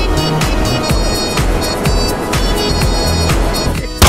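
The Oppressor jet bike in GTA Online gives a loud, steady engine roar that drones continuously throughout, with no talk over it.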